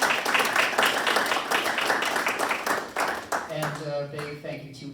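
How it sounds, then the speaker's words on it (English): An audience claps for the speakers at a talk. The applause is fairly soft and fades out quickly, and a voice comes in near the end. "And a big round of applause and thank you for our speakers."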